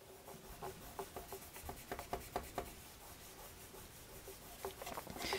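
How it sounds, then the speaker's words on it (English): A rag rubbed back and forth with polishing compound over a dull spot in a wood finish, giving soft rhythmic swishing strokes, close and quiet, with no talking. "Rub that in a little bit."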